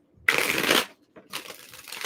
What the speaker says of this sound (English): One more shuffle for Pisces.